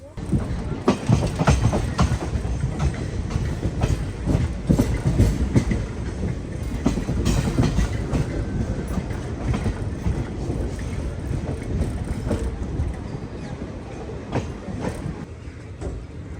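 An express train from Durg to Visakhapatnam rumbles steadily along the tracks after leaving Bobbili Junction, with continuous rattling and clacking wheels, a loud, close interior-style roar that runs throughout.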